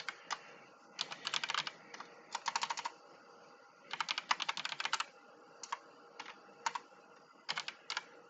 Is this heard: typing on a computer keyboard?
yes